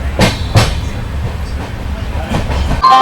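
Shreedham Superfast Express running on rails, a steady close rumble of the moving train with a few sharp clacks and knocks, with faint voices in the background.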